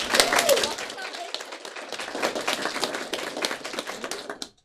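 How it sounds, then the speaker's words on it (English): A crowd claps in a burst of applause, loud at first, then a sustained patter that fades out abruptly. "Another round of applause."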